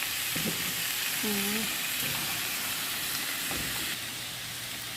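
Garlic frying in a pan for chicken tinola gives a steady, close sizzle that runs the whole time, with a faint voice murmuring once in the background.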